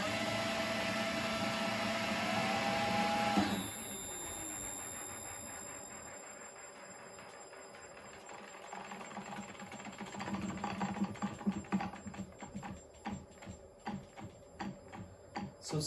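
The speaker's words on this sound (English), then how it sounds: "I hope to demonstrate MG2 spinning smoothly now." A Toyota Prius MG2 motor spins inside an opened transaxle. A steady electric whine with a rising tone shifts to a rough, fluttering mechanical rattle that grows more uneven and pulsing, heard close with no voices.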